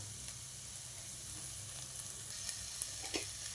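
Curry leaves go into hot oil in a pan and give a faint, continuous sizzle, with a few light crackles and pops toward the end.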